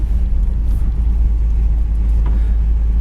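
A 1956 Ford two-door car engine rumbles low and steady at close range, with a deep droning tone as the vehicle drives along.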